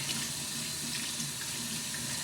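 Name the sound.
rinsing dusty containers under a running tap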